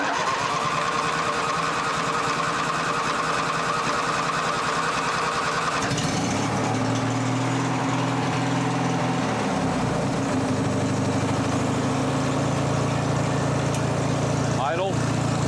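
A Craftsman riding lawn mower engine, with water in its fuel, runs close by. A busier, higher-pitched running sound drops partway through into a steady low idling hum that holds to the end.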